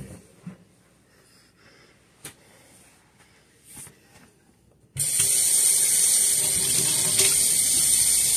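A kitchen sink faucet turns on suddenly after quiet handling sounds, then water runs in a steady, loud, continuous rush into the basin.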